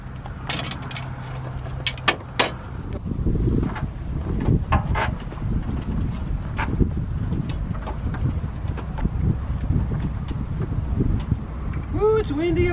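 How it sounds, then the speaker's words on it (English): Strong wind buffets the microphone on an RV rooftop during a solar panel install, a rough, gusty rumble that rises and falls throughout, with scattered clanks and people talking now and then. "Ooh, it's windy up here."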